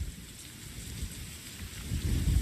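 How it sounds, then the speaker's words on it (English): Hurricane Irma wind gusting over 70 miles per hour drives constant rain across Florida. A dense, roaring wash of rain and wind fills the whole stretch and swells louder toward the end, with no voices. "The wind is picking up. The gusts are measured in excess of 70 miles an hour. The rain has been constant."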